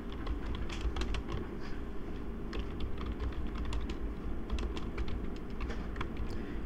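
Rapid, continuous clicking of keys on a computer keyboard as text is typed into a word processor, with an even, busy rhythm and close, quiet pickup.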